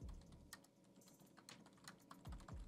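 Someone types on a computer keyboard in quick, irregular bursts of light clicks, faint and close beneath a low background hum.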